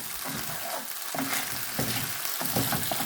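Boneless chicken chops frying in oil in a pan for chicken pilaf, a steady close sizzle broken by a few stirring scrapes, with no talking.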